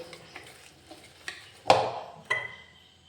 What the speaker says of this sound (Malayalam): ഇനി നമുക്കൊരല്പം വെള്ളം ചേർത്ത് കൊടുക്കാം വെള്ളം ഒന്നിച്ചൊടിക്കരുത് കുറേശ്ശെ ചേർത്ത് കൊടുത്തൊന്ന് മിക്സ് ചെയ്ത് നോക്കിയിട്ട് ബാക്കി ഒഴിച്ചാൽ മതി